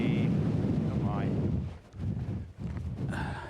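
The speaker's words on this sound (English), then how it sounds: "Windy. Oh my." Strong gusty wind buffeting a microphone on the summit of Cold Pike, a Lake District fell, loud low roaring bursts that briefly drop away and return, with a person speaking over it.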